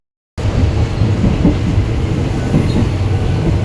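After a brief silence, a train running from Krasang, Buriram to Surin, Thailand, rumbles steadily along the rails, a loud continuous roar with faint rhythmic clatter underneath.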